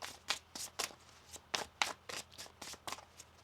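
A deck of tarot cards is shuffled by hand up close, a quick series of about a dozen crisp riffling bursts in a steady rhythm, quiet and alone.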